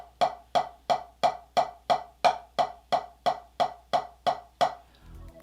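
Left-hand drumstick strokes at fortissimo hit a drum thirteen times in a steady, even rhythm, each stroke loud and sharp with a quick decay, heard close and alone before a faint low rumble at the end.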